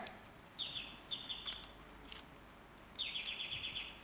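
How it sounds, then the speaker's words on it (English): Chirping bird sound effect used as a quiz-show buzzer: a few bright, high chirp bursts against quiet room noise, with a longer chirping stretch near the end, moderately faint. "I hear the bird chirping"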